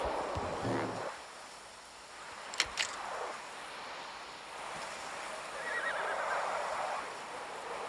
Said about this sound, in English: How did I just hear a horse?